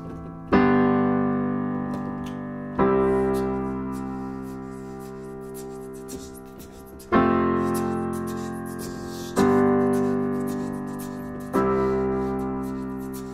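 Slow piano chords from the bridge of a song ring out one at a time, each struck and left to decay for about two seconds, a measured plodding pace with no voices.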